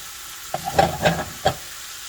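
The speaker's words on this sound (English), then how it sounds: "Let's go ahead and cook that pork" Pork cooks in a pan with a soft, steady sizzle, broken by three or four brief stirring scrapes, heard close up and without voices.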